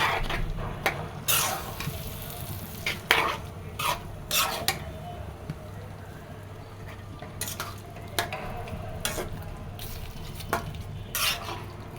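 Beef or chicken liver frying in a pan with garam masala, a spoon or spatula scraping and clinking against the metal pan in irregular strokes over a soft, steady sizzle, close up and with no talking.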